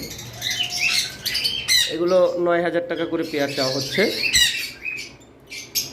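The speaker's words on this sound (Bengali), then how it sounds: "এখানে যে লাভবার্ডগুলো রয়েছে" Caged lovebirds give loud, harsh squawks close by in repeated bursts, with someone talking over them.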